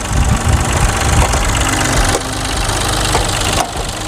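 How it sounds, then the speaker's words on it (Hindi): A used Mahindra Scorpio's engine runs steadily at idle, a loud, continuous rumble with a few sharp knocks and clicks along the way and no talk over it. "एक बार हम आपको गाड़ी स्टार्ट करके और गाड़ी का इंजन भी दिखला देने वाले हैं"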